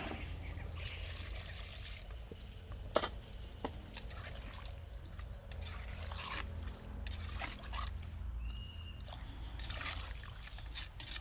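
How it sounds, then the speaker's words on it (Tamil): Water poured into chicken curry cooking in a pot, a continuous rough trickling and sizzling wash over a low rumble, steady throughout, with no voices. "இப்போ வந்து நம்ம தேவையான அளவு தண்ணி சேர்த்துக்கணும்."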